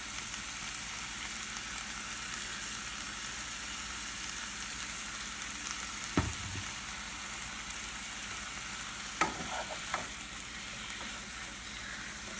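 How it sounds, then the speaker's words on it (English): Shrimp and quinoa sauté in a pan with a soft, steady sizzle, quiet and continuous, broken by a couple of brief clinks from stirring. "I'm going to go ahead and saute this"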